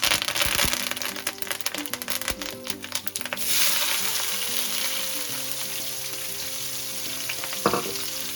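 Curry leaves and hing dropped into hot oil for dhal with kale, a loud, close, steady sizzle with brief crackling bursts and a flare near the end.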